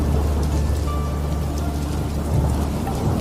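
Steady heavy rain pours on a stormy night with a low rumble of thunder underneath, dense and continuous throughout.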